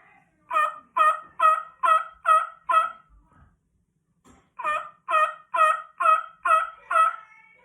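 A Primos turkey call is blown in two bursts of six or seven evenly spaced yelps, clear and close, separated by a short pause.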